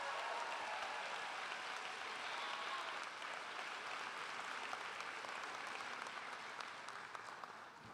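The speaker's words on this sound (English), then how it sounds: "A round of applause for the class of" Sustained applause from a large audience at a graduation ceremony for the Bard High School Early College class of 2024, a dense, steady roar of clapping that holds at a loud, even level throughout with no voices on top.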